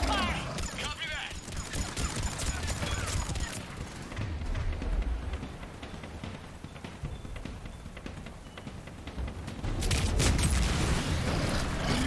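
Covering gunfire in a Mass Effect 3 battle, rapid bursts of shots rattling on and off amid loud combat noise and rumble, with spoken voices mixed in.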